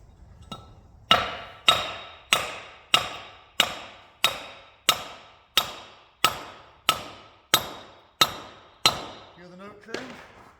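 A hammer strikes a socket to drive a rear axle hub seal into an Iveco 75E15 horsebox, giving about thirteen sharp metallic blows at an even pace, each ringing briefly, with a rising note near the end.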